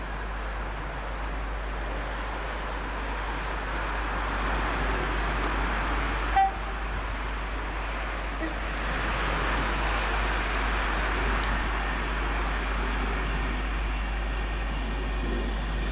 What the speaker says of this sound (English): the next one up will be 390 Pendolino